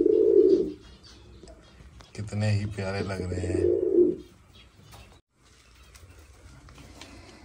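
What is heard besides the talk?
pigeons cooing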